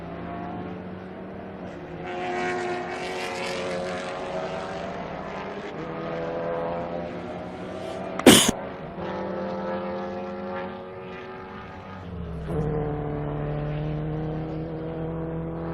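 Race cars lapping the Assen circuit, a red BMW passing a blue Ford Focus, give a steady droning engine roar with shifting harmonic whine, a sharp loud crack near the middle, and a lower engine note rising toward the end.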